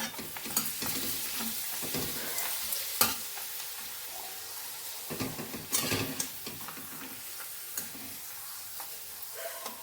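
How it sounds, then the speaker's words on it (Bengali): Papads frying in hot oil crackle and sizzle fairly quietly, with sharper bursts each time one goes into the oil, spread unevenly across the clip with no talk. "চলো একে একে পাঁপড়গুলো সব ভেজে নিই"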